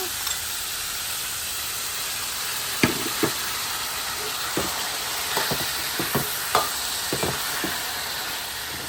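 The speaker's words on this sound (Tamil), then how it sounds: "ஒரு 2 நிமிஷம் தான் கிளறுங்க." Pineapple with ginger and garlic sizzles in a pan for a Jaffna-style chutney, a steady hiss of frying broken by scattered clinks and scrapes of a spoon stirring.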